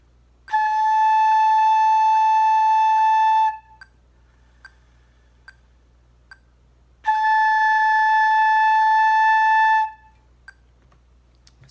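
Two sustained flute notes, each begun with a crisp forward tongue attack just behind the top teeth, as in a beginner flute lesson; each holds steadily for about three seconds, separated by a quiet pause with faint clicks.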